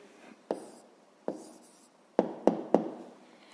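Pen strokes on paper while an answer to a fifth-grade maths exercise is written down: five sharp taps or strokes, each followed by a short scratchy trail, close and clear with no talk.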